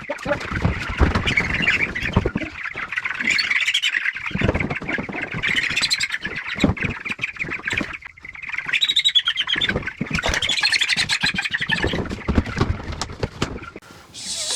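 Meat chickens squawk and chirp loudly and constantly from close by as they are moved into chicken tractors on a farm. The calls overlap in a dense flock chorus with rustling, and no one speaks.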